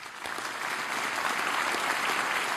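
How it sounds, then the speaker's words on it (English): Audience applause at the REAIM 2023 conference, a steady wash of clapping from a large crowd in a hall, sustained and even throughout, with no talking. "Give him some applause."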